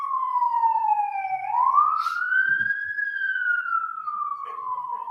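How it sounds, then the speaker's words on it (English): An emergency siren passing outside a courtroom, a single rising and falling wail gliding slowly up and down in pitch, fairly loud and steady, with faint background noise and no speech. "I'm just letting the siren go by."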